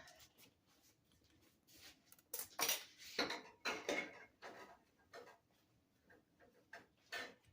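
Glass canning jars clink and knock against each other and the metal canner, making a run of sharp, close taps and rattles at an uneven rhythm with quiet pauses between them.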